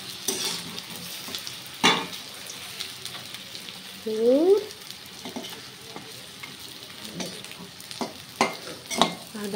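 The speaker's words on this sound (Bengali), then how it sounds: "1 খোলা ভাজছি, একটু ছেঁকা তেলেই ভাজছি।" Pitha fries in a small amount of oil in a wok, giving a continuous soft sizzle broken by scraping stirs and utensil clicks, close by, with a brief rising whistle-like tone midway.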